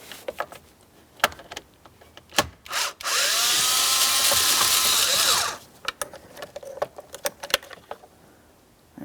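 A power tool whirs for about three seconds as it removes a mounting bolt inside a Ford Transit 250, preceded and followed by clicks and metallic handling of the tool and hardware, close up.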